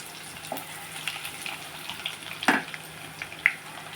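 Garlic, mustard seeds, cumin and dried chillies fry in hot oil with a light crackling sizzle, broken by a few sharp pops and spatters, heard up close.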